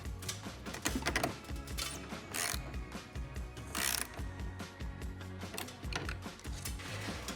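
Rollers on a sectional garage door are tightened for adjustment, giving close ratcheting clicks and metallic mechanism rattles in irregular bursts. The sounds are quiet and come without speech.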